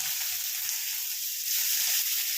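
Onions frying in hot oil in a pan over raised heat, a steady, close hiss of sizzling with a faint crackle throughout, no talk.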